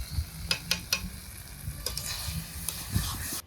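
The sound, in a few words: stirring greens in a frying pan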